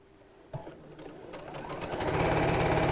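A sewing machine fitted with a zipper foot starts up with a few clicks, then speeds into a fast, steady mechanical stitching whir that grows louder.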